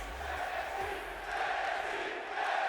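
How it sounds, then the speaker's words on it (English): A wrestling arena crowd in the video game WWE 2K20 cheers and roars steadily before an NXT main event, a dense mid-level wash of many voices that swells slightly toward the end. "this crowd on their feet, ready and excited for NXT's main event"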